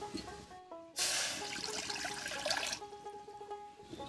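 Water poured into a wok on a lit stove. A brief splashing gush dominates the middle of the clip, framed by quieter tonal kitchen background before and after.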